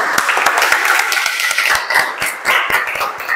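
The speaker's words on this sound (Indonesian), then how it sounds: "Coba tepuk tangan." Clapping from a classroom group, a burst of many hands beating quickly and fairly close, with dense overlapping claps and a few sharper individual hits standing out across the short stretch.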